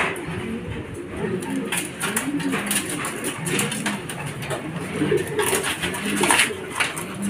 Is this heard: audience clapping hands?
no